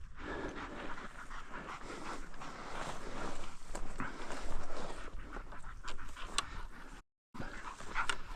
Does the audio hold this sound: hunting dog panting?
yes